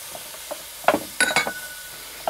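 Peppers going into a hot pan with sirloin and red wine while cooking stroganoff in a campervan, a few close scraping stirs and clanks over a faint sizzle.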